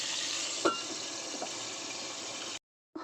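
Pieces of boal fish fry in hot oil in a home kitchen, giving a steady close hiss and sizzle with a few small pops, cut by a short silent gap before the frying noise returns.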